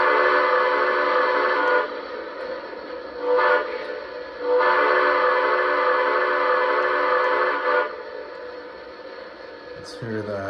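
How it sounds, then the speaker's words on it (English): A Lionel New York Central Dreyfus Hudson model train blows its whistle: a long, loud blast, a short toot, then another long sustained blast, sounding steady and close, with a brief click at the very end. "Let's hear the whistle."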